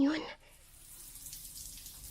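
Water runs briefly in a bathroom, a strong gush at the start that quickly drops to a faint, steady trickle with no voices.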